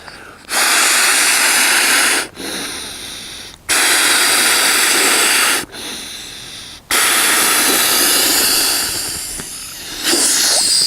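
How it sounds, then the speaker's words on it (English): A camp pillow with a simple valve and no check valve is inflated by mouth, giving three loud long breathy blowing hisses with short gaps between them, then the start of a fourth. "Takes just a touch more energy to blow it up, and you'll also hear it does not have a check valve."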